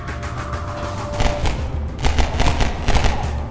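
Enemy gunfire in the Half-Life 2 shooter rattles out in loud, repeated bursts, with heavy booming shots and dense volleys spread across the whole stretch and no talk over it.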